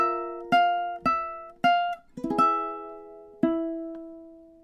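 A ukulele plays a short phrase from a song in time, with several plucked chords and notes ringing out cleanly and decaying, including a quick strummed cluster midway and a final sustained chord, solo and close.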